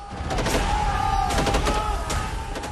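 Battlefield gunfire in a dramatized 1967 Nathu La clash between Indian and Chinese soldiers: dense, continuous rifle and machine-gun bursts with sharp repeated cracks, loud and close, over a steady tonal hum, with no speech.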